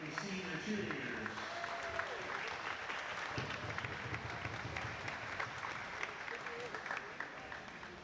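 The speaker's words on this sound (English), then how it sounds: "A nice round of applause for all of our Cardinal Mooney senior cheerleaders." Applause for the Cardinal Mooney senior cheerleaders fills a basketball gym during senior recognition against Venice. Steady crowd clapping runs throughout, with a voice talking over it.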